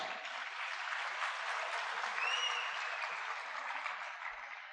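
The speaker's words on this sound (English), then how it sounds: "Let's have a burst of applause for this work of art." A large audience gives a sustained, even burst of applause in a hall after a flute performance at a university valedictory function, with dense clapping that holds steady and slowly fades toward the end; no talk over it.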